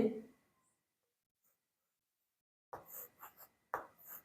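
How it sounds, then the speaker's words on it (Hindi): Pen or chalk scratching out a few short writing strokes in two quick clusters after a pause, close and fairly quiet, following a brief bit of speech in a maths lesson about a square room. "तो यहां लिखेंगे"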